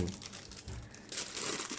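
Paper from a shop crinkles and rustles steadily at close range as it is wrapped around freshly peeled durian flesh, with no talk.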